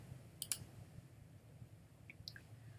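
A computer mouse clicks a few times while navigating an Excel worksheet: a quick double click followed by a couple of softer clicks a moment later, faint and close against quiet room hum.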